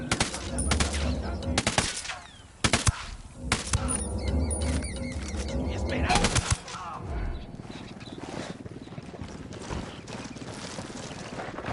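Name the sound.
gunfire in a video game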